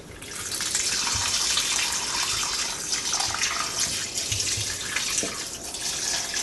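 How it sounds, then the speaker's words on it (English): Chicken bone broth pours and splashes steadily through a strainer, a continuous rushing wash like water running into a sink, with no voices. "It's splashing."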